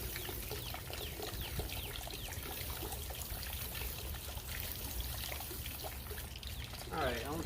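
A garden hose running at full blast over a flowerbed, giving a steady broadband rush of pouring, splashing water throughout, with faint birdsong and a brief bird call near the end.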